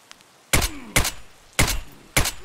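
Four 5.56 M55A1 rounds fired in a video game at Korund class 5 armor, each a sharp, loud gunshot with a short ringing tail, spaced about half a second apart with no talking.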